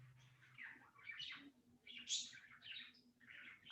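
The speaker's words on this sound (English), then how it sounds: "No questions and the birds are chirping." Several small birds chirp and tweet in quick, overlapping bursts, fairly close and moderately loud, with a low steady hum underneath and no talking.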